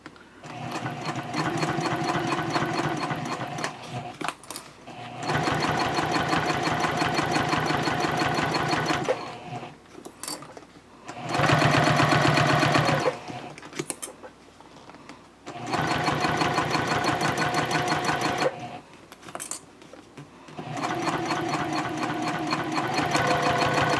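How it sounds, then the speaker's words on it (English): A sewing machine stitches a seam on a messenger handbag in several steady, buzzing runs of about four to five seconds each, separated by brief pauses for pivoting, loud and close with no talking. "And then I'll pivot again, and I'll sew up the other side."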